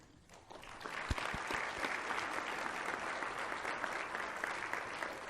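Enthusiastic applause from a sizable audience at a general meeting in Rwanda, rising quickly after a few opening claps and holding at a steady, full level.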